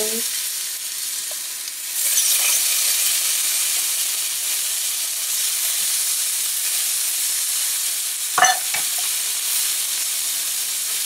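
Fish fillets laid into a pan with oil over medium-high heat, setting off a loud, steady sizzle that rises after a moment and carries on alone, with a brief clatter near the end.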